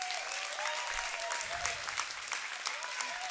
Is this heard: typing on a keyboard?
no